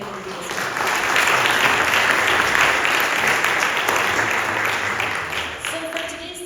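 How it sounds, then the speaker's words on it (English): Audience at a town hall meeting held in Beth Eden Baptist Church applauds the host pastors, a swell of steady clapping that builds quickly, holds, then tapers off near the end. "let's give a round of applause to the pastors who is hosting this event tonight"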